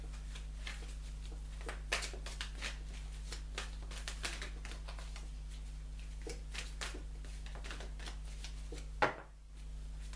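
Oracle cards are shuffled by hand in a quiet room, giving repeated soft riffling and slapping bursts at a steady pace over a low electrical hum, with one sharper knock near the end.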